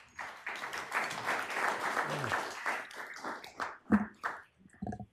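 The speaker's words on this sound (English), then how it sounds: "we give everybody another round of applause" Audience applause at a transit board meeting, a dense spread of hand claps filling the room steadily for several seconds before breaking into scattered claps and a few brief voices near the end.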